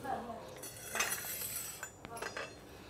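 Brass parts of a kuthu vilakku oil lamp being fitted together, giving a few close metallic clinks and scrapes with faint talk in the background.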